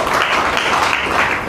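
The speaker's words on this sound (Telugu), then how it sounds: "గట్టిగా చప్పట్లు కొట్టండి" An audience claps loudly in a thick, unbroken roar of many hands that stays steady through the whole short stretch.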